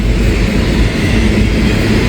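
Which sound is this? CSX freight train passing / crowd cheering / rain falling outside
CSX freight train passing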